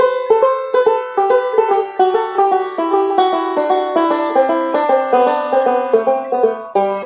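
Banjo roll in a reverse swing rhythm: bright plucked notes in a quick, lopsided stream of steady picking, close and loud, played alone without talking.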